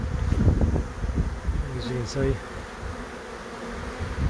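Bees buzz steadily around a cut-out in a wall, a dense, close hum with passing individual bees, under a man's brief speech and light wind noise.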